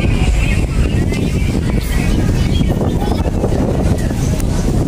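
Steady, loud wind buffeting the microphone on a RoRo barge crossing from Matnog to Allen, Samar, a constant low roar throughout with a faint engine hum beneath it.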